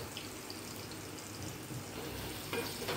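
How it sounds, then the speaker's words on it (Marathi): Onion sizzling as it fries in hot oil, a steady close crackle with faint stirring, no talking. "आणि या तेलामध्ये हा कांदा टाकून घेऊ."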